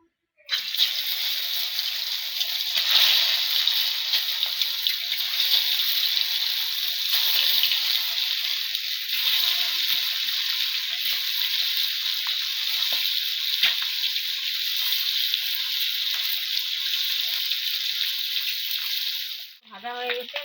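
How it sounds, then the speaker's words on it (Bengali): Eggs fry in hot oil in a kadai, giving a loud, continuous hissing sizzle that holds steady for about twenty seconds before cutting off abruptly near the end. "কড়াইয়ে তেল দিয়ে দিয়েছি, এখন তেল গরম হয়ে গেছে, ডিমগুলো ভেজে নেব।"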